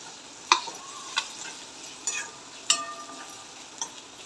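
Masala with spices and finely chopped tomato frying in a pan, a soft steady sizzle broken by several sharp scraping clicks of a spoon against the pan at irregular intervals.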